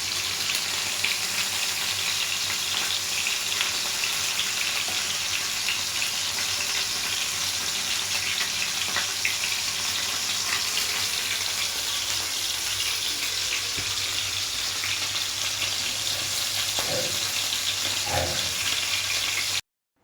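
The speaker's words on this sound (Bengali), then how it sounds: "এইভাবে এরকমভাবে তোমরা যদি ঘরে করতে চাও এরকমভাবেই ভাজবে" Homemade seekh kababs fry in hot oil in a pan, giving off a continuous, fairly loud sizzle and hiss that runs the whole way through, with no talking.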